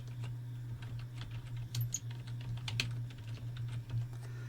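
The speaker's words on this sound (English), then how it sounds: "I'm going to type in Windows PowerShell." Keystrokes on a computer keyboard while entering a search in Windows 11, a quiet run of irregular clicks over a steady low electrical hum, fairly close and soft, with no voices.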